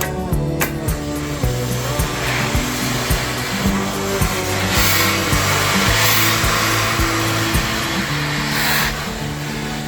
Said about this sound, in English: We are going to give the apron a final press.